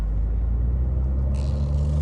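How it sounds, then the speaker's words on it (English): A 2018 Kia Stinger GT on a dyno, its exhaust a loud deep steady rumble, with engine noise rising briefly near the end. "standing next to the car in the dyno you could definitely hear the exhaust, the difference in exhaust note."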